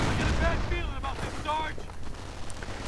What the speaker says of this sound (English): And looks like they're now firing away at the medics.